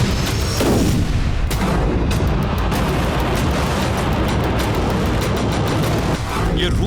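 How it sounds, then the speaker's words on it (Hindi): Heavy artillery bombardment and explosions over Lviv, Ukraine, a dense, loud, continuous roar of booms and rumbling blasts with no quiet gaps. "यूक्रेन के लवीव क्षेत्र में विनाशक बारूदी वर्षा की गई।"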